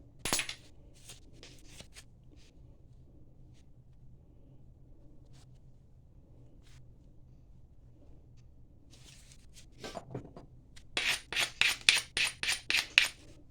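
Pressure flaking on a heat-treated flintridge flint block: scattered faint scrapes and snaps, then a rapid series of about eight sharp, crisp clicks as flakes are peeled off near the end, close up with no talking.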